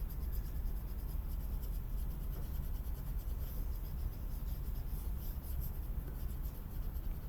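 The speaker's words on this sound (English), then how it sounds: "You can almost hear my screen, right? It sounds like a marker." A stylus scrubs steadily over a Wacom tablet's screen, a close, dry, marker-like scratching that keeps going without pause and with no voices on top.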